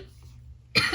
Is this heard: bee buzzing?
no